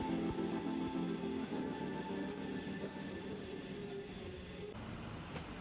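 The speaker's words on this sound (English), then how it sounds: "trains like this one with 100 carriages full of coal make their way" A long coal train of about 100 carriages rolls through a town, a steady low rumble of wagons passing close by without a break for the whole stretch.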